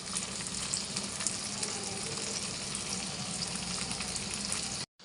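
Garlic with dried red chillies sizzles in hot oil in a pan, a constant near crackling hiss that holds level and then cuts off abruptly at the very end.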